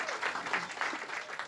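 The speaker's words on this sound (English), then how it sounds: "Can we give a big round of applause for my two grandsons?" Brief audience applause at a book talk, a soft even rattle of many hands clapping from a modest crowd, quiet and continuous with no voices on top.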